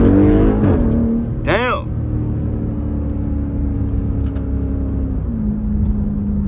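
An SRT Jeep engine rumbles and revs briefly during a downshift, a loud, close, steady drone with a short rising rev near the start, heard under a person talking.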